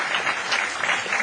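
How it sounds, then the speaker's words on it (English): Audience applause for Armin Moran, a steady dense clapping from a crowd held at an even level throughout, with no voices standing out. "Let's just give Armin a big round of applause for coming"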